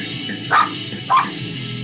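A dog with its head out of an open car window gives two short barks about half a second apart, fairly near, over steady road and engine hum.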